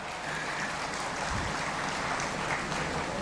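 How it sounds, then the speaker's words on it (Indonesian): An audience at a Milad anniversary speech event applauds steadily, a dense, even wash of clapping held at moderate level throughout without clear breaks. "Tepuk tangan ya."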